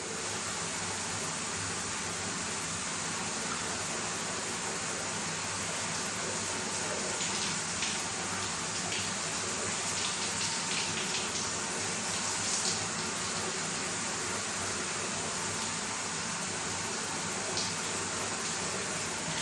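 Shower water runs continuously in a bathroom, a steady, loud, broadband hiss and spray that stays even throughout with no voices over it.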